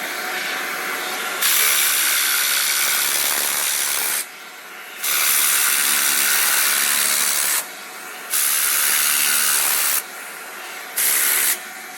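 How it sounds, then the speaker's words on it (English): Steam cleaner blasting the interior of a car, a loud, close hiss in several long bursts with brief gaps between them. "So I'm going to hit this again with the steamer."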